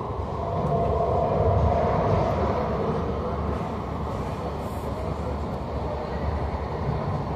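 SNCF Line J train hauled by a BB27300 electric locomotive with VB2N double-deck coaches running past, a loud sustained rumble and rolling wheel noise that swells early and continues steadily.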